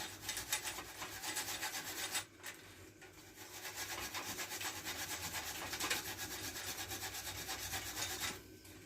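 Rapid back-and-forth scrubbing strokes on a Raleigh Chopper Mk2 bicycle part as surface corrosion is rubbed off, close and steady, with one brief pause before the rubbing resumes.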